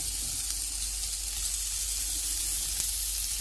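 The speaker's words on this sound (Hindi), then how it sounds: "तो इसमें हम ये सब्ज़ मिर्चें और ये रेड मिर्च में फ्राई होने के लिए रख लेंगे।" Green and red chilies frying in hot oil for Turkish kebab, giving a steady, even sizzle close by with no talk over it.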